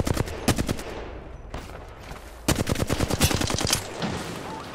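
Video game gunfire in Apex Legends: loud, close rapid bursts of automatic shots in two clusters, separated by a brief lull.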